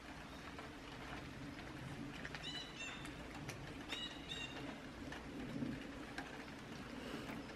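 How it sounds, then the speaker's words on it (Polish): Steady rain falls outdoors at a garden allotment, a continuous soft hiss of drops on surfaces, with birds calling and chirping over it at moderate distance. "Deszcz pada."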